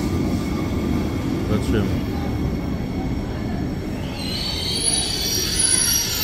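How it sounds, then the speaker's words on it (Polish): A double-decker passenger train rolls along on the Schwyz to Lugano route, a steady loud rumble of wheels on track with a rising high squeal near the end; a voice speaks briefly over it. "Pociąg piętrowy."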